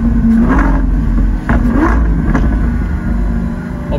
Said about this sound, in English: Literally sounds like a Formula 1 car.